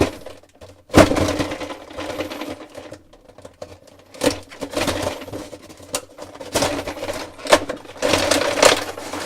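An action figure is unboxed, its plastic packaging crinkling, snapping and tearing in irregular bursts, with short sharp cracks and quieter rustling between them, close by.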